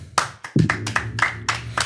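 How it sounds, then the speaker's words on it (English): A person claps their hands several times in a short, uneven run of sharp, close claps, with a faint voice beneath. "I clap for myself"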